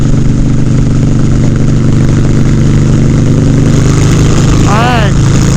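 A Harley-Davidson Softail motorcycle engine drones loudly in fifth gear with a steady rumble, and a brief voice exclamation breaks in near the end.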